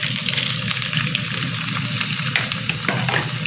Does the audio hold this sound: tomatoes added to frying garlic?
yes